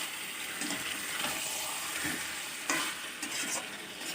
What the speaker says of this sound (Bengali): কষাতে হবে মাংস যত ভালো করে মশলার সাথে কষাবে তত খেতে খুব স্বাদ হয়